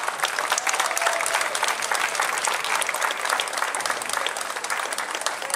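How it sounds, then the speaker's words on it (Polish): Sustained, dense applause from an outdoor crowd at a motorcycle rally celebrating Polish independence in Kluczbork, loud and steady throughout without a break. "Wielkie brawo."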